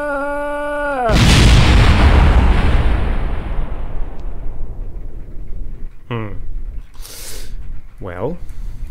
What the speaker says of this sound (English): I'm amazed that didn't make a bigger explosion, actually.